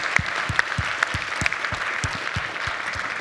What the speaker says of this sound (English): The panel should get a great applause.